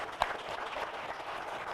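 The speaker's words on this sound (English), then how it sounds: "So we should give her a big round of applause as well." Meeting audience at a West Side heroin and opioid task force gathering applauding, a steady wash of clapping from a crowd with one sharper clap near the start, even and moderately loud throughout.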